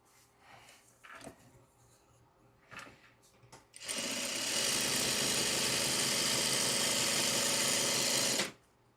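A sewing machine runs in a steady, loud whirring stitch for several seconds after a few quiet clicks and handling sounds, then stops abruptly near the end.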